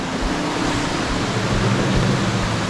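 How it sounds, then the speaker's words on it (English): Steady, broadband rushing of water, loud and continuous throughout, like a nearby waterfall, with no voices. "The sound of rushing water."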